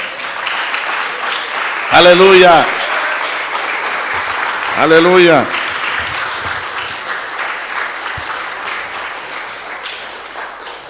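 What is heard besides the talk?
audience applause in church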